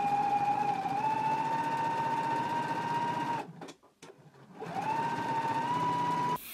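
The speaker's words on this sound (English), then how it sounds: "Now we can take it to the sewing machine and we're going to stitch close on both of the long edges." A sewing machine hums steadily as it stitches, pausing briefly midway before running again, close and even.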